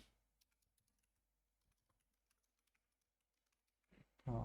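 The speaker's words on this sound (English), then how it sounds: "website URL I can type" Someone types a website address on a computer keyboard: faint, scattered key clicks in an irregular rhythm, ending with a sudden loud thump.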